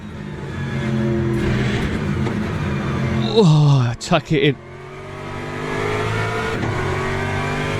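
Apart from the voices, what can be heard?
Ford Mustang race car engine in video game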